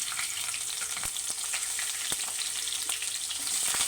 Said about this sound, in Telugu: ఆయిల్ వేడైందండి కొద్దిగా జీలకర్ర అవి కొంచెం వేసుకొని నెక్స్ట్ ఒక పచ్చిమిర్చి